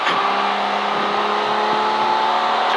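A V12-engined race car circles Silverstone during a CSCC Modern & Future Classics meeting, its engine holding a steady, loud, continuous drone with sustained tonal harmonics throughout and no voices over it.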